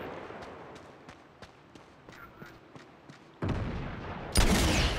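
Gunfire and explosions from the Uncharted video game, including a rocket launcher firing: a string of sharp shots, followed by two sudden loud blasts near the end, under no talk.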